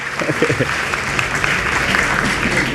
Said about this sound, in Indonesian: Oke kita berikan tepuk tangan untuk narasumber kita.